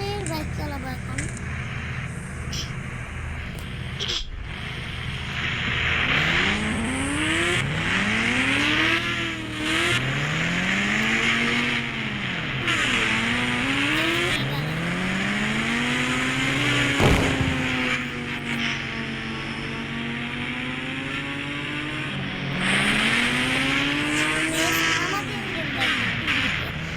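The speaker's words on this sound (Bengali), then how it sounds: "আমরা ঘোস্ট রাইডারের বাইক চালাবো এখন" Ghost Rider's motorbike in a video game revs with rising and falling engine tones that sweep up and down repeatedly over a steady backdrop, with a few sharp clicks, at constant loudness.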